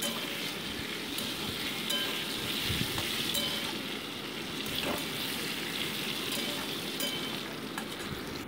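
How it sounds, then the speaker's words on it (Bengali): Potato pieces frying in hot oil until golden brown, a steady, close crackling sizzle with scattered pops and occasional stirring scrapes, continuous throughout with no talking. "দিয়ে গোল্ডেন ব্রাউন করে আলুগুলোকে একটু ভেজে রাখছি আমি।"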